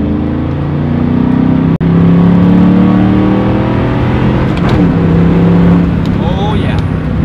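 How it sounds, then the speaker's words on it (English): A Mach 1 does a third-gear roll, accelerating with a loud, close engine roar that rises in pitch early, then holds a strong, steady drone. "let's get one final third gear roll on"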